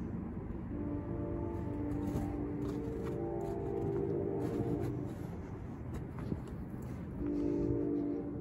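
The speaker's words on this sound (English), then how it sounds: "That's a train in the background." A train rumbles past in the distance near a cemetery, a steady low drone with a brief higher horn-like tone near the end.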